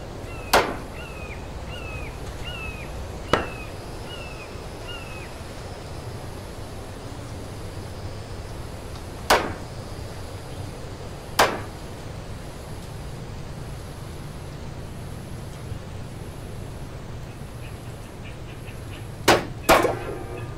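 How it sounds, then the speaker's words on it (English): In the video game American Theft 80, a hammer strikes a door or window to break in, sounding as sharp, isolated impacts spread irregularly across a steady low ambient hum, with a few chirpy game tones early on. "I don't have no way to get in except for a hammer."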